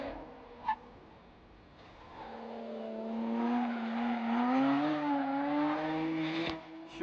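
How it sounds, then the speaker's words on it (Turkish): A race car engine revs with a rising, wavering whine that builds and holds, then fades, with a sharp click near the start. "arabanın sesine bak ya muazzam"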